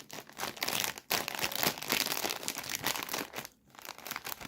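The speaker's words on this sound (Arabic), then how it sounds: "نفتح الكيس ده ونقول بسم الله الرحمن الرحيم" A crinkly plastic bag of Ash Ash tomato-flavored snacks is torn and pulled open close up, with continuous dense crinkling and crackling and no talking.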